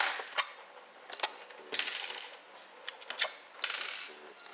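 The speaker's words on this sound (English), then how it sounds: "to remove these four screws" Small metallic clicks and ratcheting scrapes from a screwdriver backing the four loosened corner screws out of a first-generation Apple TV's metal case, coming in brief, irregular bursts at close range and low volume.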